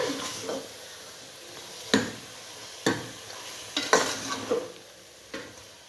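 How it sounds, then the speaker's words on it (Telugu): Masala fries in a pan for a simple chicken curry, a quiet steady sizzle punctuated by a handful of spaced spoon scrapes and taps on the pan, close up and free of speech. "మసాలా కూడా బాగా వేగాలండి"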